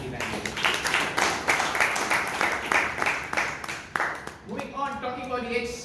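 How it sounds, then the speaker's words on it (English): Applause for speakers and evaluators at a Toastmasters club meeting in Bangalore: a few seconds of dense, steady clapping from a room full of people, fading as a voice starts talking. "A round of applause to speakers and the evaluators."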